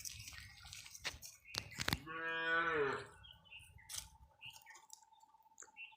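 A bull moos once, loud and close, with a long harmonic call in a Konkan village, framed by scattered clicks and faint rustling; no one speaks.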